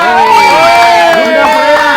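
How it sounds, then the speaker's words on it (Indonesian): Loud, close crowd cheering and shouting from an audience applauding teachers, with overlapping excited voices and whoops throughout. "Tepuk tangan dulu buat semua guru di Indonesia."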